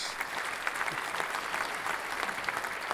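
An applause sound effect dropped into a casual podcast conversation among friends, a continuous crowd clapping at even loudness for about three seconds, with no voices over it.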